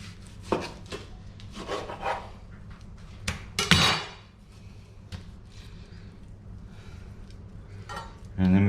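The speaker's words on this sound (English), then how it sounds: "Now I want to cut that into a steak." A knife slices a slab of beef into steaks about a centimetre thick on a board, giving scattered sharp cuts and knocks with quieter rubbing between them, close up.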